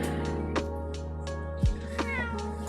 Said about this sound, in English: That was a cheeky little meow,